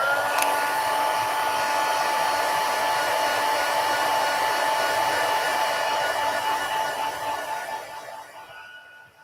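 A hair dryer blows steadily on a freshly painted watercolor card, a loud, constant whir with a faint whine that runs for several seconds before tapering off at the end.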